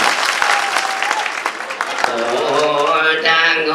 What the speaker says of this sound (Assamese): হাত চাপৰি মাৰিব লাগে আকৌ